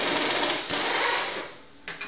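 Power drawbar on a vertical mill whirring as it runs, a buzzing mechanical spin that stops partway, then short bursts as it starts again near the end.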